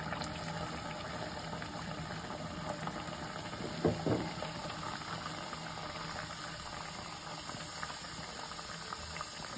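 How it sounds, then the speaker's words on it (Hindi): Kachoris frying one by one in hot oil in a kadhai give a steady, even sizzling bubble that carries throughout at moderate loudness, with a brief clatter near the middle and no talking. "अब हम इसे, ये कढ़ाई हमारी गर्म हो गई, इसमें एक एक करके सारी कचौड़ियाँ सेकने के लिए डालेंगे।"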